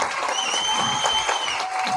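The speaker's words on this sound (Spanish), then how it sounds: "Un fuerte aplauso para la gente de tendera." An audience applauds at a flamenco school performance, a steady wash of clapping from a crowd with a faint sustained tone and murmur beneath it.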